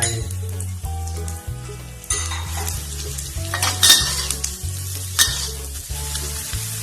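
Carrots and mushrooms are stir-fried in a pan with steady loud sizzling and repeated utensil scrapes and clinks close by, over a low rhythmic background hum, with no talking.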